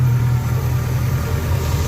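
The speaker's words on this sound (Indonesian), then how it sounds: "Nah ini suara mesinnya cenderung lumayan ya bos ya" A 1986 car's engine idles close by, a steady low droning rumble that holds evenly throughout with no talking.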